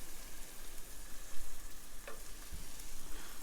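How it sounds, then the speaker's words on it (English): Burgers sizzle and spit steadily in a frying pan at a remote coastal campsite, a soft continuous crackle at close range with no talking. "These actually turn out quite good in a frying pan."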